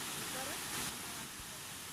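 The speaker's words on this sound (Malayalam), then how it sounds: "ആ പോകുന്ന വഴിയെ കാണുന്ന മനോഹരമായ എന്നാൽ പേടിപ്പെടുത്തുന്ന വെള്ളച്ചാട്ടം" A waterfall on the way to Chomakunda viewpoint near Chalavara in Coorg gives a steady, full-bodied roar of rushing water, a constant hiss that swells slightly and then settles without a break.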